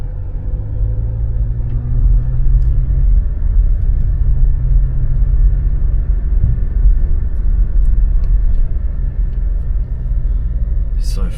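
A car rolls along a road in Scotland with a steady low engine rumble and tyre noise, constant and close from inside the cabin, with no voices over it.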